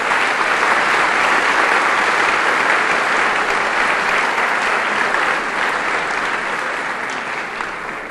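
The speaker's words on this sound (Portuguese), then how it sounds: "E as palmas para o Senhor Jesus Cristo" A church congregation gives a long burst of loud, dense clapping, sustained and close, tapering slightly toward the end.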